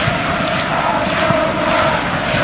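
Stadium crowd at a Liverpool versus PSG Champions League match, a steady dense roar of moaning and groaning from the stands, loud and continuous throughout with no clear breaks.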